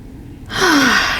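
A deep exhalation during a Pilates ab workout. One breath, quiet at first, then a long, steady, airy sigh that holds for most of the moment, close and alone with no talking.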